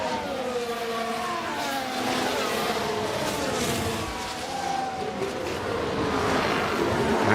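Formula 1 race cars at the Belgian Grand Prix sprint weekend in the video game F1 Manager 24 scream past with continuous high-pitched engine whine. Several cars overlap loudly with no talk.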